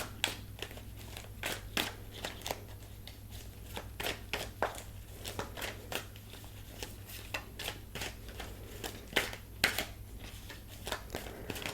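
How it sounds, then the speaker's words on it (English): Tarot cards being split and shuffled, giving close, crisp riffles and soft slaps in irregular bursts over a low steady hum. "I'm going to split it and then I will shuffle for any messages."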